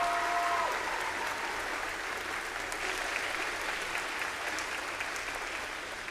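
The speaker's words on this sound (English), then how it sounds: "Please give another round of applause" Sustained applause from a crowd at a high school Veterans Day assembly after an unarmed exhibition team's performance, loud and dense clapping that holds steady for several seconds before easing slightly.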